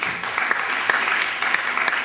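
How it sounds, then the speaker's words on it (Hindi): Audience applause at a Hindi-Urdu welcoming ceremony, steady crowd clapping with a few sharper individual claps standing out, continuous and moderately loud over the short stretch. "तालियों की गड़गड़ाहट आज कम नहीं होनी चाहिए"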